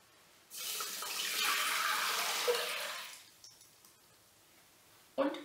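Water gushes steadily into a pot of rice for a few seconds, a bright splashing stream that cuts off, followed by a brief clatter.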